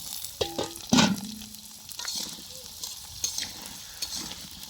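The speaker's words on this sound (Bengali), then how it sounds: "দেখ আলুটা ভেজে নেই" Potatoes fry in a pan with a quiet, steady sizzle, broken by a few sharp clinks and scrapes of stirring near the start.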